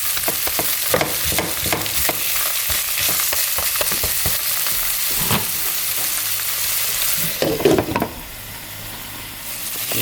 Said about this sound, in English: And we're just going to saute this just about 5 minutes.